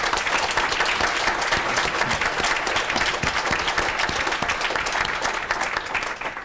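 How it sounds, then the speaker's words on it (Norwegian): An audience at a Norwegian talk on Middle East conflict and great-power politics breaks into loud, dense applause for an author, a close, continuous wash of many hands clapping that holds steady before tapering at the very end. "Så jeg har lyst til å gi Hilde litt applaus."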